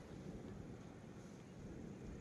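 Steady wind on a farm rushes and buffets the microphone, a constant low roar with no pauses.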